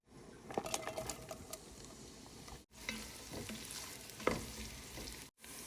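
Whole spices crackling in hot oil at the start of cooking khichuri, a soft continuous sizzle with light pattering pops and occasional spoon scrapes, heard close with no speech and brief dropouts.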